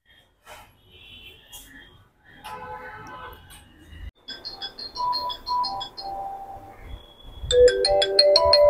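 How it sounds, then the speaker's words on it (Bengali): A phone plays a ringing tone during an outgoing call, with short melodic tone bursts growing louder and more insistent toward the end, with faint breathing and handling noise before it. "দেখি পূর্বিতাকে একটা ফোন করি।"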